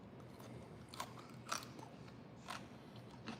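Someone chews a crunchy grilled steak pinwheel close to the mic, with a few faint, separate crunchy bites in otherwise quiet surroundings.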